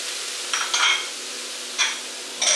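Frozen peas go into a pan with chorizo and tomatoes and fry with a steady close sizzle, broken by a few short scraping stirs of a utensil, no talk.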